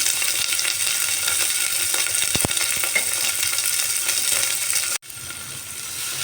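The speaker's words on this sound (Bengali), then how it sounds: "এবার আমি পেঁয়াজটাকে একটু হালকা ফ্রাই করে নিচ্ছি" Onion frying lightly in a pan with ginger and chopped green chilli, a steady close crackling sizzle throughout, with a few stirring scrapes and a brief break near the end before the sizzle resumes.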